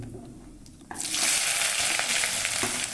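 Chopped onion dropped into hot oil with cumin, bursting into a loud, steady sizzle after a quiet start and frying continuously close by.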